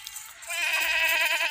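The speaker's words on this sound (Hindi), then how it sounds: "ये देखें ना 4 बच्चों वाली माशाल्लाह बकरी" A goat, a mother of four kids, lets out one long wavering bleat that swells after a brief start, close and loud, heard alone.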